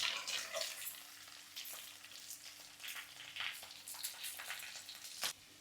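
Onions hit hot oil in a pan with curry leaves, green chilli and garlic for a Coimbatore-style coriander chutney. They crackle and sizzle loudly and continuously up close, with bursts of spattering and stirring scrapes.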